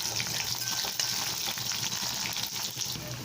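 Chopped garlic and small shallots sautéing in hot oil for an oil-fried eggplant curry, a steady close sizzle with soft stirring scrapes throughout, no voices.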